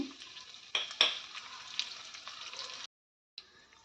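Dry red chillies hit hot oil after tempering seeds with a loud, crackling sizzle in sharp bursts that settles into a steady hiss, briefly cutting out before resuming.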